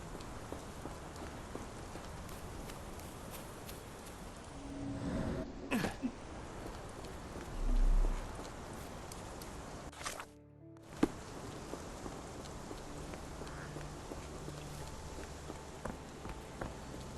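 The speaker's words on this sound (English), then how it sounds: "This dreary rain is making a miserable day even worse." Rain in the video game Sherlock Holmes The Awakened, a steady soft patter of drops on surfaces throughout, with a few brief louder thumps and a short gap midway, no voices.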